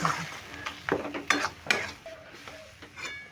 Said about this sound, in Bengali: মশলাটা ডালের সঙ্গে খুব ভালো করে মিশিয়ে কষিয়ে নিতে হবে শুকনো করে নিয়ে